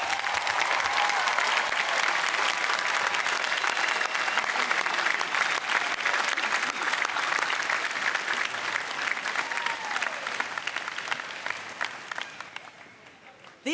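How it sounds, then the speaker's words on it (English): A large crowd at a University of Virginia graduation ceremony gives a long, dense round of applause for the graduates' families, which rolls on steadily before fading out near the end. "Students, will you please join me in applause for your family members?"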